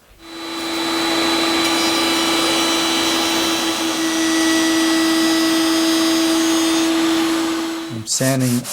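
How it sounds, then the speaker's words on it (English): A wood router cuts into a fitted presentation box, giving a loud, steady high-pitched whine that runs for several seconds and then spins down at the end. "and I'm ready to route"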